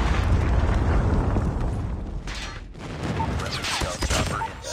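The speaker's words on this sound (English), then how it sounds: "Friendly predator missile inbound." Predator missile explosion in Call of Duty Mobile: a dense, sustained rumbling blast fills the clip, with a brief dip midway before crackling debris and bursts return, loud and close.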